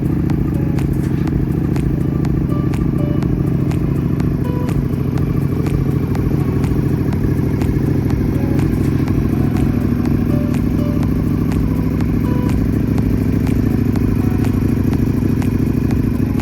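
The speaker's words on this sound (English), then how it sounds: "I'm about to go for my first ride on this 2025 Ducati V4S" A 2025 Ducati Panigale V4S fitted with an Akrapovic exhaust runs close and loud, a constant rough rumble with crackle and clatter throughout and no pause.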